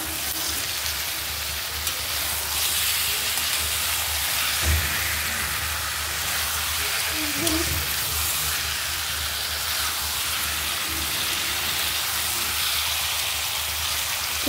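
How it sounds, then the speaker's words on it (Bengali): Chicken frying with salt and spices in a pan, a steady soft sizzle and hiss running evenly throughout with a few faint clicks. "এবারে চিকেনটাকে ভালো করে এই মশলার সঙ্গে কষিয়ে নেব"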